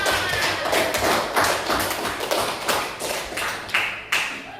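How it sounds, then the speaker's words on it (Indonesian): Slow, separate claps from a small classroom group, sharp taps spaced at fairly regular intervals over a low background. "beri tepuk tangan untuk kita semua"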